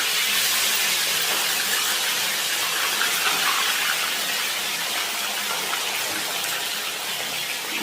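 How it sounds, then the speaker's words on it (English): Three pieces of fish dropped into hot oil give a steady, loud, close sizzle, a dense unbroken hiss that holds for the whole stretch with no one talking. "you make sure your oil is hot enough. There you go. We shall fry 3 pieces at a go."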